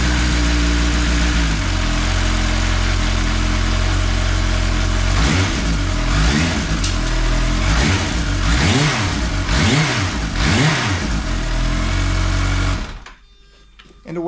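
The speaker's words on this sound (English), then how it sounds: "the supercharger chain is going to make a little noise because it needs to pressurize" A supercharged Kawasaki H2 motorcycle engine runs loud and close, idling then revving in several rising and falling bursts before cutting off abruptly near the end.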